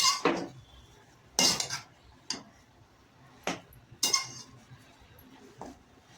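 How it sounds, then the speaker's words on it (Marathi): Grated carrot being sautéed in a pan for carrot halwa, with a spatula giving a handful of sharp, separate clinks and scrapes against the pan over a quiet background. "तो किसलेला गाजर, गाजराचा किस परतून घेते."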